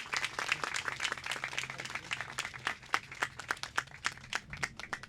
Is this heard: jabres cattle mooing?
no